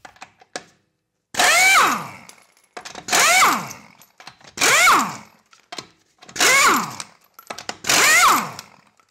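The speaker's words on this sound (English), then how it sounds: "Here's footage of me with the Earthquake XT half-inch Ultra Torque when it was brand new." An Earthquake XT half-inch Ultra Torque air impact wrench, brand new, fires in five loud bursts of about a second each, its whine spinning up and down with short hissing gaps between.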